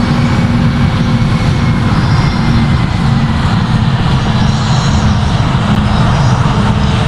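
Airbus A320 jet engines spool up at takeoff thrust in the Project Flight simulator game, a loud, steady broadband roar with a low hum that runs unbroken throughout.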